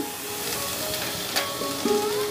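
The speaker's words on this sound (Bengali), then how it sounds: "আমি সামান্য একটু সর্ষের তেল নিলাম দিয়ে তেলটাকে ভালো করে গরম করব একটা তেজপাতা দিলাম আর একটা শুকনো লঙ্কা দিলাম একটু রাঁধুনি দিলাম" Bay leaf, dried chili and radhuni crackle and sizzle in hot mustard oil, a close, steady frying hiss with a few small pops and clinks near the end and no speech.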